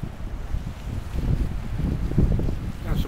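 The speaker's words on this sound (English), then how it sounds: "Windy, blustery day." Blustery wind buffets the microphone out on open water by a boat with an Evinrude 15 hp two-stroke outboard, a rough, low rumbling roar that stays steady and close throughout.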